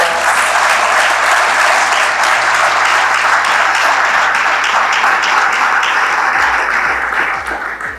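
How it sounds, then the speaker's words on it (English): Graduation ceremony audience applauding a secondary-school graduate, a dense, steady wash of many hands clapping that fills the whole stretch at full strength and thins slightly at the very end. "Let's give a big round of applause."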